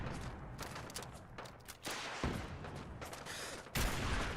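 Rapid bursts of gunfire in Fallout 4 with the Sim Settlements 2 mod, sharp repeated shots of a character firing in a fast irregular rhythm, loud and close throughout.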